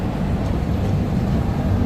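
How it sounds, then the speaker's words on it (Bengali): Passenger train pulling out of a station, a steady loud low rumble with no distinct clacks, heard from on board, without talk. "ট্রেন ছেড়ে দিল"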